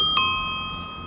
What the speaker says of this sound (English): And it also does come with a nice bell.